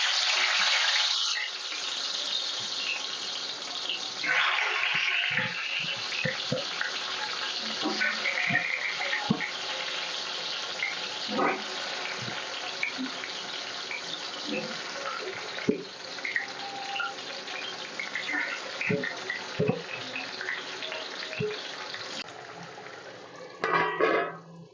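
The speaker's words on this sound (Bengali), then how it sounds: "এবার নুন হলুদ মাখানো আলুগুলো ভেজে নিচ্ছি" Potatoes rubbed with salt and turmeric fry in hot mustard oil, giving a steady, close, broadband sizzle and hiss with occasional clinks and stirring noises throughout.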